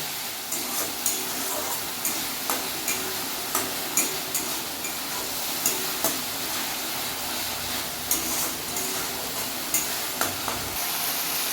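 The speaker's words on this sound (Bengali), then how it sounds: "এবার আমি এই মশলাগুলো ভালো করে কষবো যতক্ষণ না তেলটা উপরে উঠে আসছে" Spice masala stir-fries in oil for papad aloo masala, with Kashmiri chilli powder in the mix: a dense, loud sizzle throughout, punctuated by regular sharp scrapes of a spatula against the pan roughly every half second.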